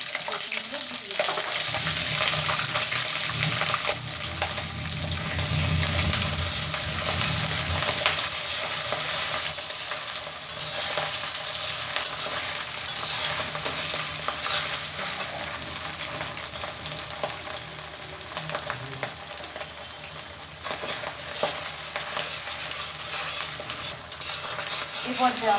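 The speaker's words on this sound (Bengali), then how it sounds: "এই পর্যায়ে আমাদের অনবরত নাড়তে হবে, না হলে আদা রসুনটা পুড়ে যাবে।" Ginger-garlic paste frying in oil with bay leaf over a medium gas flame, a loud continuous sizzle with repeated scraping and clinks of a spoon stirring constantly against the pan.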